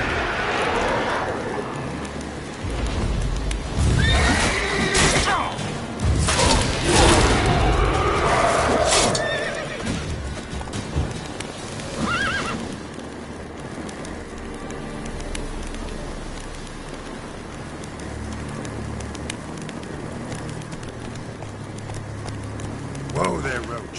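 Roach, the horse in The Witcher 3, gallops on with irregular hoofbeats over rain and birdsong. The hooves are louder early on and fade to a softer patter, with a voice speaking over them.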